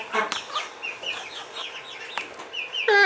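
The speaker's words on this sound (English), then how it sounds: "That's the rooster." Close chickens cluck and chatter in short bursts, with a rooster's sharp call breaking in at the end.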